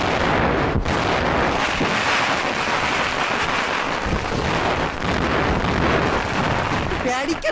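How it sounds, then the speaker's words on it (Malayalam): A long string of firecrackers goes off at a busy street gathering, crackling loudly and without a break. Dense overlapping bangs fill the whole stretch. "പടക്കം പടക്കം"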